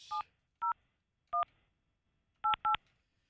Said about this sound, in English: calling Hadley's phone